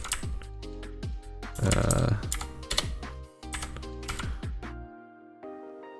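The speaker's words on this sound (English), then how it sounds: "so we're going to type that again" Rapid bursts of key presses on a computer keyboard while entering a Linux command, close and clicky with short pauses between runs and quiet at the end.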